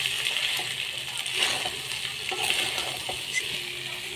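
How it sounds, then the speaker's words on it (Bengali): Rice frying in a pan as it is stirred and tossed, a continuous sizzle with light scraping strokes and small clinks spaced through it, close and fairly loud, no talking. "ভাত দিয়ে দিলাম, ভাত দিয়ে এইবার নাড়াচাড়া করে"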